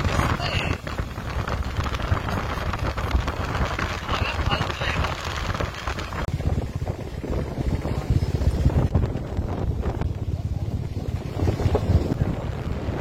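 Strong, steady wind buffets the microphone at Panshet dam near Pune during the monsoon, a constant low roar with gusts throughout, with rain and water noise mixed in.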